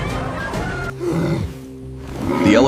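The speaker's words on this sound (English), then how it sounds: "Elephants and cavalry on a green Italian plain." War elephants trumpeting and roaring on a battlefield among cavalry on a green Italian plain, loud overlapping animal bellows close by with rumbling grunts between them.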